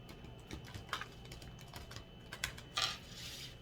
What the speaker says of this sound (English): I'm going to go ahead and shuffle for you guys